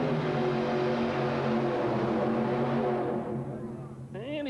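Loud, sustained high-revving engine roar from an alcohol-burning drag racer with an Austin Bantam Roadster body at a USHRA event in Oklahoma City, holding steady for about three seconds, then fading as it pulls away, with a brief whine near the end.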